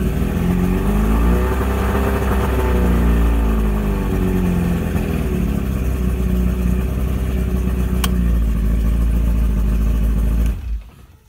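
A Mercury 40 hp two-stroke outboard motor runs loud and close, a steady buzzing drone with a slight rev rise early on, then cuts out abruptly near the end.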